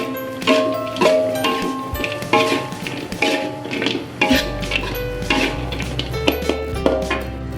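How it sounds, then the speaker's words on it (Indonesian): Chilli salt chicken is stirred slowly in a pan with the heat switched off, making repeated scraping clinks of utensil on metal in a steady rhythm, over a faint tonal background. "Kita aduk-aduk perlahan-lahan."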